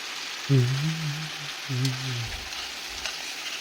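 A paste of cashew, melon seed and white sesame sizzles and fries steadily in a pan while being stirred for a sesame pointed-gourd dish, with a voice briefly humming or murmuring over the hiss.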